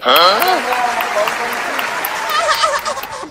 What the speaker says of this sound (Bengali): আমাদের বালেশ্বর বাবুর জন্য জোর করে হাততালি।